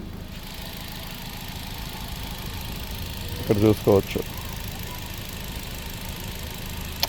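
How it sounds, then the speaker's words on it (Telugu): A Hyundai Elite i20 Asta petrol engine with 69,000 km idles with a steady, smooth hum throughout, while someone speaks briefly over it midway. "ఇంజన్ అయితే స్టార్టింగ్లో ఉందండి."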